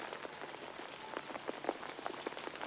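Steady soft rain pattering on a surface outside, with scattered individual drops ticking faintly over a continuous hiss, quiet and even throughout.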